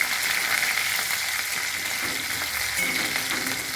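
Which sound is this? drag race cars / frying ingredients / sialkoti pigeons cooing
frying ingredients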